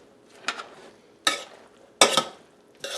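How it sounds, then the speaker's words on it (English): Frozen okra being scraped and stirred in a pot, four distinct close scraping strokes spaced about a second apart, each a gritty rasp with a wet sizzling tail, with no talking. "scrape down the sides, try to keep the pot clean"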